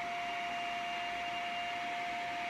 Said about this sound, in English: Can you hear me over the hairdryer?